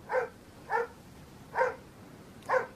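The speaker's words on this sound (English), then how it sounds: "I better go and see what's going on with that dog." A dog barks four times at a steady, spaced rhythm, each bark sharp and moderately loud, a little distant, over a quiet background with no talk.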